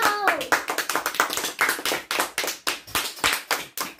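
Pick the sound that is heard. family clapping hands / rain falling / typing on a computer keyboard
family clapping hands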